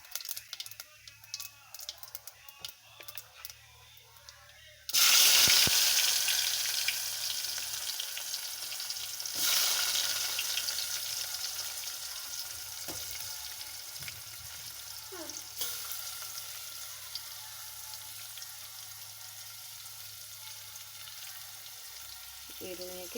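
Cumin and mustard seeds hit hot oil for a tempering, bursting into a loud, dense sizzle that gradually settles into a steady crackle, with a few stirring scrapes and faint speech.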